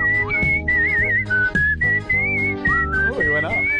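A whistler, an international grand champion in competitive whistling, produces a loud, piercing whistled melody with quick trills and bends over a chordal backing, with faint voices in the background.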